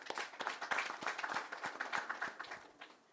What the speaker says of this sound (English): please allow me to clap for the ministry